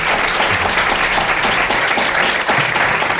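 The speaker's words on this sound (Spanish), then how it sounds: "Un fuerte aplauso para todos los compañeros de la televisión autonómica." A studio audience at a radio programme presentation in Aragón bursts into loud, sustained applause, a thick, even wash of clapping from many hands throughout.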